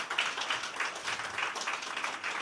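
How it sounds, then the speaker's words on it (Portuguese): An audience at a Portuguese-language spiritual retreat talk claps together, a steady wash of many hands lasting a couple of seconds at moderate distance, with no voices over it. "Podem bater palmas."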